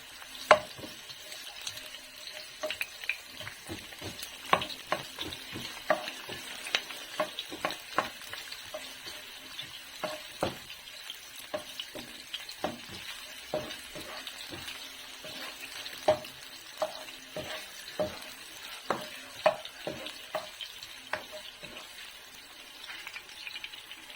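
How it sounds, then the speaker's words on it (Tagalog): White onion sautéing in a pan for miki guisado, a steady close sizzle broken by frequent sharp scrapes and clacks of stirring, with no talking. "gisa muna ako ng sibuyas no"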